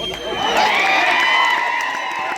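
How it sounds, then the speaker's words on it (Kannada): A crowd at a kabaddi match between Baramati and SN Academy in Jamakhandi cheers and claps, a steady, loud roar of voices and shouts with no break throughout. "ಚಪ್ಪಾಳೆ."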